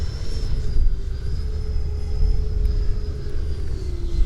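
An FMS Hawk 80mm RC jet flies past with a steady high-pitched ducted-fan whine over a rushing, windy roar, holding a fairly constant pitch throughout with no voices.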